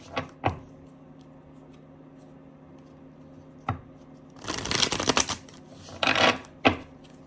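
A tarot card deck is shuffled and cards drawn: a few sharp isolated taps and clicks, then two bursts of rapid riffling card flutter, close and fairly quiet, with no voices.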